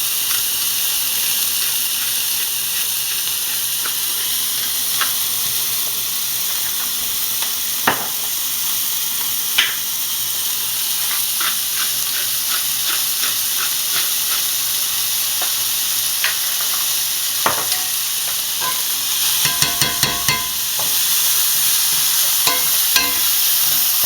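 Onion and garlic sizzle continuously in a hot skillet, a loud, dense frying hiss punctuated by scattered sharp crackles and spatters, with a cluster of pops near the end.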